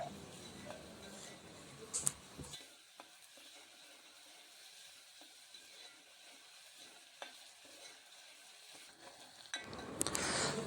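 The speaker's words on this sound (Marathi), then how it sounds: "कांदा वगैरे घालून भाजून परतून घ्यायचा आहे भांड्यामध्येच" Onions sautéing in a pot for a jackfruit vegetable dish, a steady soft sizzle under occasional scraping clicks of a stirring spoon, close, fairly quiet, with no speech.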